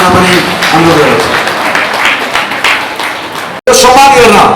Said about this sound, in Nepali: सबैजनाले कृपया ताली बजाएर सम्मान गरिदिन पनि अनुरोध गर्दछु।